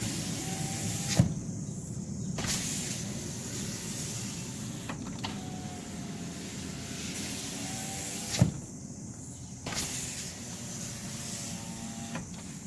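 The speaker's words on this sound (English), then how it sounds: "we're going to put the window up and down, and we're going to do this quite a few times" A car's power window, slow-moving, runs repeatedly up and down with a steady motor whine, each stroke ending in a sharp thunk before a short pause and the next run.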